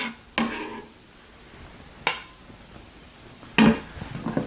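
Stirring diced Roma tomato into an avocado mixture in a bowl, three sharp utensil clacks against the bowl spaced over a few seconds with soft scraping between, no talk.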